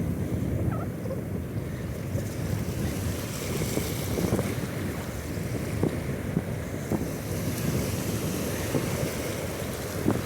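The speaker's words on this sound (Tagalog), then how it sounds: "Sobrang lakas ng hangin" Strong sea wind buffets the microphone while fishing from a boat, a constant roaring rush with waves and water sloshing underneath, loud and unbroken with no talking.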